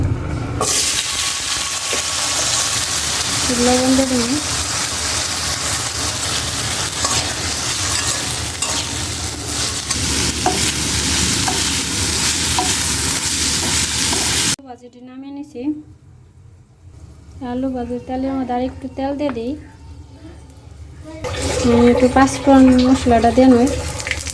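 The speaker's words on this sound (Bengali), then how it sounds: "কড়াইতে গরম তেল দিয়ে দিই আলু দি" Potatoes hit hot soybean oil in a wok with a loud, steady sizzle for a long stretch, then the frying fades lower while people talk over it.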